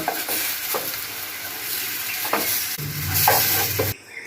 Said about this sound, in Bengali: এই যে আমি সব ফ্রাই করে নিয়েছি ভালোভাবে।